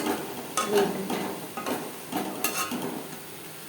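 Jute leaves (pat shak) being stirred and dry-fried in a pan, heard as a soft, fairly quiet crackling sizzle broken by repeated scraping and tapping strokes of a spatula, with no talking.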